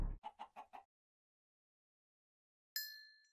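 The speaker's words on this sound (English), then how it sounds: "I'm going to breed these two chickens." Minecraft SkyFactory 3 chickens being bred: a quick run of four soft clucks close by, then silence, then a bright squawk that fades out slowly.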